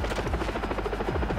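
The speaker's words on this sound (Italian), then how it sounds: "Ok. Devo far secco l'elicottero." Helicopter in the shooter game Far Cry 3, a loud, close, steady rotor thump with a throbbing buzz filling the whole moment.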